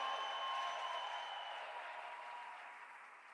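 Crowd applause and cheering at a campaign rally for Governor Tim Walz in Nebraska, a faint, distant, sustained wash of clapping that slowly fades.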